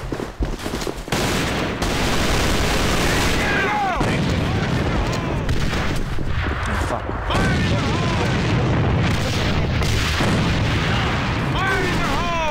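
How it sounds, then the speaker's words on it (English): Grenade blast from an enemy in the A.V.A online shooter, a loud boom inside a dense stretch of gunfire and explosions, with players shouting over the top throughout. "It's an enemy grenade!"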